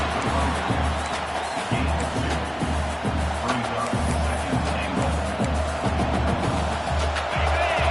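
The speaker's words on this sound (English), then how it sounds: "this big crowd doing everything possible to inspire this defense down here near the goal line" A big football stadium crowd cheers steadily near the goal line, a dense continuous roar of voices and whoops filling the whole stretch.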